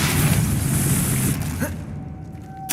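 The Depulso spell in Hogwarts Legacy gives a loud booming blast with a whooshing rush that fades into quiet, then a short sharp burst at the very end.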